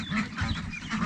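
Ducks and ducklings at a small bathing pool make steady close quacking and nasal calls, layered with higher peeps, continuing throughout without pause.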